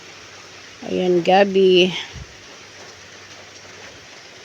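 Steady rain falls over a rural province in Laguna, a constant soft hiss, while a voice speaks briefly over it.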